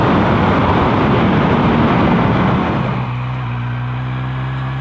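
A 2018 Kawasaki Z900 motorcycle with a six-speed gearbox roars loudly and close as it accelerates hard, then settles into a steadier, lower engine drone for the last couple of seconds; no one speaks.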